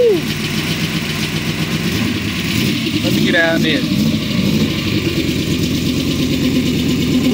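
A 1981 C3 Corvette Stingray running without its exhaust baffles gives a loud, steady, rumbling idle that fills the whole stretch. Someone speaks briefly over it partway through.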